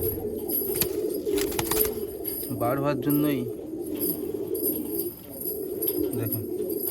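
A Malwai pigeon coos in a short rolling burst, a second call following close behind, with someone talking over and around the calls against steady background noise.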